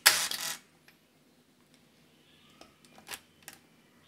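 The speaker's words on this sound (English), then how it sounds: "After pushing the shutter release once, it'll take a photo." A Ricoh RZ-750 35mm compact camera in multi-exposure mode fires its shutter with a sharp, loud burst at the start. A few faint clicks and small mechanical ticks follow in otherwise quiet surroundings, with no motor drive winding.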